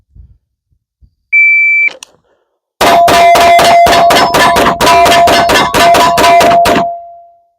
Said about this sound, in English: We're just going to do a mag dump.